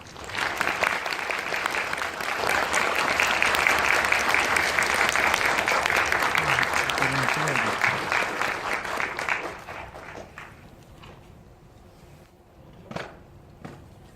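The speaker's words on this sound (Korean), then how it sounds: "호소다마모루 감독님 박수로 맞이해 주세요." Audience in a cinema talk event for the animated film Mirai gives sustained applause welcoming the director, loud dense clapping for about nine seconds that then fades into quiet room noise with a few scattered thumps.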